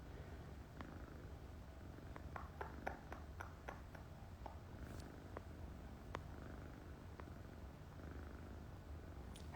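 A 10-week-old kitten purrs softly and steadily at close range, with a few light clicks and taps scattered over the low rumble.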